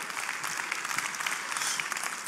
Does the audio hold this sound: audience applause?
yes